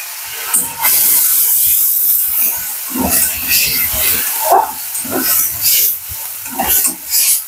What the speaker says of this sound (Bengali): তেলের মধ্যে জিরে আর শুকনো লঙ্কা দিয়ে দিয়েছি,